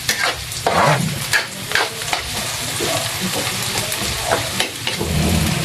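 Sliced ginger sautés in a hot pan for clam adobo, with a loud, continuous sizzle and frying hiss broken by a few scraping stirs.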